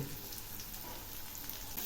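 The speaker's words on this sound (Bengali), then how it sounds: "এগুলি খুব ভালো করে ভেজে নেব" Chopped onion and crushed garlic fry in oil with nigella seeds, giving a faint, steady sizzle without pause.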